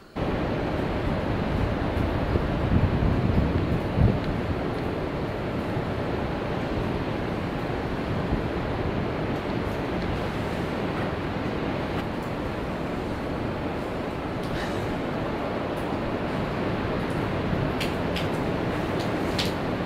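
Steady ocean surf rolls along the Oregon coast on a rainy day, a continuous broadband wash of waves that stays fairly even and close throughout, with no voices.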